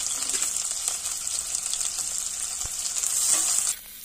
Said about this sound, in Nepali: अब प्याज चाहिँ रातो हुने गरेर हामीले फ्राई गर्नुपर्छ